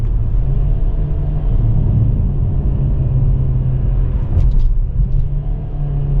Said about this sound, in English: Check the downshifts out.